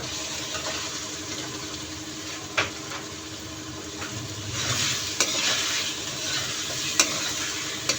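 Half a kilo of chicken pieces fries and gets stirred in a cooking pot, giving a steady sizzle with a few sharp spoon clacks against the metal. The sizzle swells louder partway through, and no one speaks.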